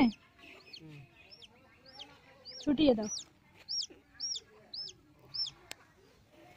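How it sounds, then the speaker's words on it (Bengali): A baby chicken that got stuck under a large banyan tree chirps in a steady run of high, short peeps close by, while people talk around it. "একটা মুরগির বাচ্চা এখানে আটকে গেছিল"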